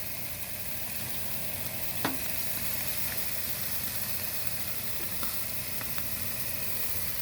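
Beef ribs grilling over an asado fire, a faint steady sizzle and hiss carrying on evenly with a few small pops and crackles.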